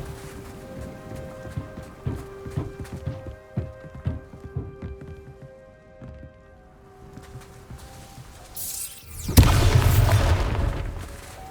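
A Bombarda spell blast in the Hogwarts Legacy game: light footsteps and faint game sounds, then a sudden loud explosive burst near the end that rings out briefly.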